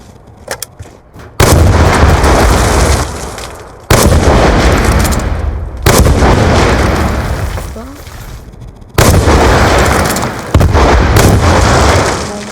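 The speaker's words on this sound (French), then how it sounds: "Ça tire carrément des missiles." Missiles launching and exploding in a video game: four loud, heavy blasts, each a sudden boom followed by a rumbling decay lasting a couple of seconds, spaced evenly and dominating the clip.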